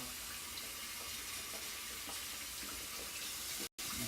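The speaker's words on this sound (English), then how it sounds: "Just rinsing the brush now." A shaving brush rinsed under a running tap, giving a steady, close hiss of flowing water that continues with no talk and breaks off briefly near the end.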